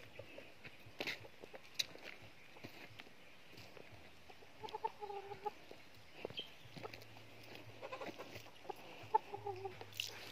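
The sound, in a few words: chickens clucking in backyard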